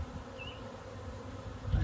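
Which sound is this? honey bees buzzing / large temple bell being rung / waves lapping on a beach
honey bees buzzing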